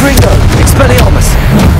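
Confringo blasting spells exploding in Hogwarts Legacy gameplay, loud booming bursts in quick succession over a dense rumbling battle din, with a voice calling out spell names.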